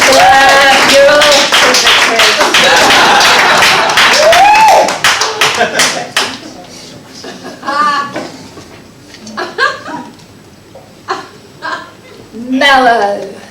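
Theatre audience bursting into loud, dense clapping and applause for several seconds, then thinning into scattered claps and laughter while a performer talks over it.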